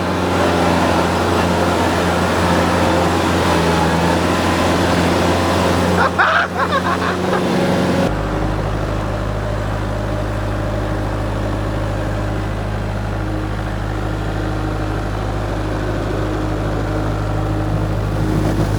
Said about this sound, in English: Tractor donuts!